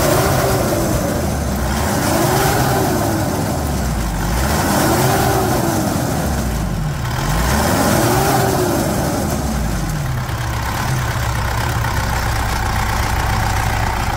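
A Mitsubishi Pajero 3.2 engine, freshly given a valve adjustment, revs up and down in steady repeated swells from idle, running loud and continuous with no voices.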